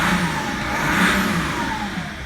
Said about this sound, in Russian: Обороты набирает хорошо.